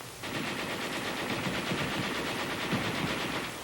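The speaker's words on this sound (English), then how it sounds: "the section leader has the other gun fire faster to cover the target" WWII US Army heavy machine gun firing a sustained, rapid burst, a dense continuous rattle of shots that stays steady and loud for several seconds with no talk.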